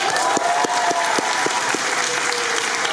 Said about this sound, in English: Here comes another applause line.